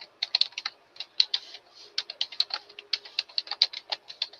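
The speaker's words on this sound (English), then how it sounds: "most of the time when you're waiting on me to type, I'm just typing that same last line" Rapid, irregular clicking of keys on a computer keyboard, close and clear, continuing steadily for several seconds with short pauses and no voices.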